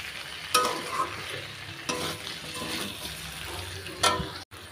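Spices with cumin powder sauté in a pan on a gas flame, a soft steady sizzle broken by a few sharp scraping stirs.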